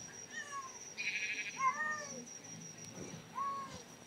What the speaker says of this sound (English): What's that cat?